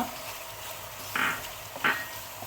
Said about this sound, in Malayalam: കാശ്മീരി മുളകും ചേർത്ത് ഇളക്കുക.